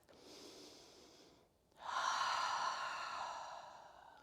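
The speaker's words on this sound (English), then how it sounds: "Here we are, cleansing breath." A deep cleansing breath during a yoga exercise, a steady airy inhale through the nose followed after a short pause by a longer, louder, breathy exhale, close and with no talking.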